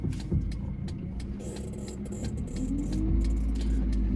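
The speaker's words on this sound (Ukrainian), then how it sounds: "Завадимо машину." A car is started for a driving test route, with a brief rattle of keys and a low engine that catches and settles into a steady idle inside the cabin, with no talking.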